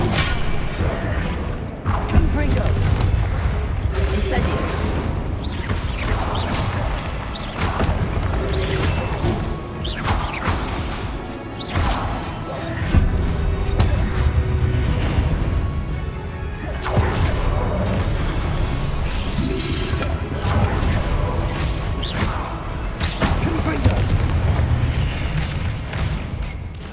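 Confringo and Incendio spell blasts cast in Hogwarts Legacy, a steady barrage of loud booming impacts, thuds and crashes over a dense, continuous game soundscape, with a voice speaking briefly.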